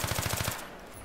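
Rapid automatic gunfire in the video game Battlefield 3 multiplayer, a fast burst of about eight evenly spaced loud shots that stops abruptly, leaving faint ambient game noise.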